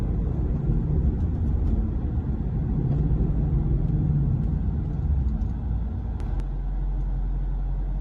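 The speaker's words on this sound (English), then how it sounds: "Nice little downshift, go into second, and it feels nice." A Ford Mustang with a new Steeda clutch spring rumbles along after a downshift into second gear, its engine drone steady and close from inside the car, settling to a smoother idle-like hum near the end.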